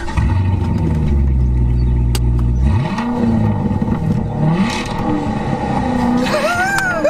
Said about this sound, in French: écoute le bruit du moteur.